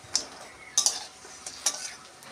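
Lentil and egg fritters fry in oil, a soft sizzle punctuated by three or four sharp spatula scrapes as they are turned.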